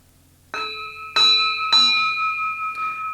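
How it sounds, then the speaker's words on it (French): Three clear strikes of a bell, each ringing out with a long bright sustain, spaced about half a second apart and overlapping as they fade, loud and alone with no voices. "chaque fois que la cloche sonne, c'est le chapitre qui change."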